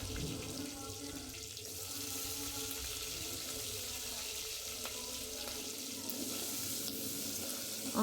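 Onions and green chillies frying in a pan for Telangana-style sambar, a steady, fairly faint hiss and sizzle running throughout with occasional small crackles.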